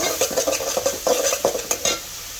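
Bottle gourd cooking in a pot while being stirred, with repeated scraping and clinking strokes of a spoon against the metal over a light sizzle, close and fairly loud.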